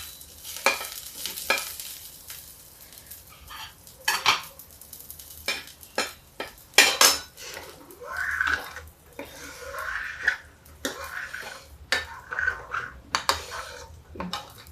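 Okra cooks in a pan with chili, garlic, ajwain and onion: a spatula scrapes and clinks against the metal in irregular bursts over a faint, steady sizzle, close up, with no talking.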